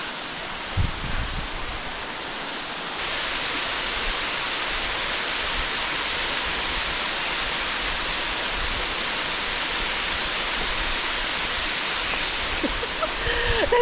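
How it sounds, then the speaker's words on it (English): A steady, dense roar of falling water fills the clip, loud and continuous, with a brief softer stretch at the start. "I'll show you guys the waterfall."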